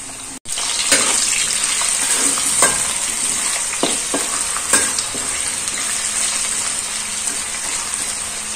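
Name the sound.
potato frying and being stirred in oil for sabudana khichdi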